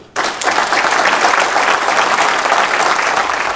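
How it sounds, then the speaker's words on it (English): Loud, steady applause from an audience at an award of valor dinner, starting abruptly and continuing as a dense, even wash of clapping with no voices over it. "Round of applause, please."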